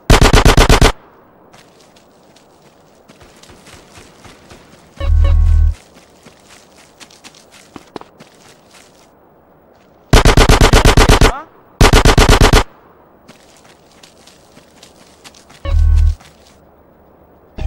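Video game gunfire in GTA: San Andreas on PlayStation 2 comes in loud bursts of rapid automatic shots, separated by quiet stretches with faint footsteps and clicks, with deep thuds under some bursts.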